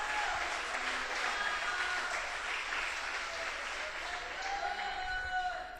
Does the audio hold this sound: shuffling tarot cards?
no